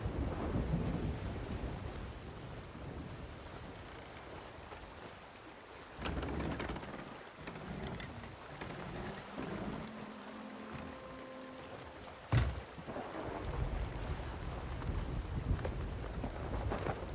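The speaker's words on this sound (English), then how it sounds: "we're still on the trailing edge of that storm" A thunderstorm with rain at sea in the video game Sea of Thieves: steady rain hiss, a low thunder rumble midway and a sharp nearby thunder crack near the end, with no voices.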